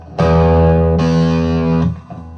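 An electric guitar played through heavy distortion: two long, gritty, buzzing chords ring out loud and sustained, then cut off abruptly.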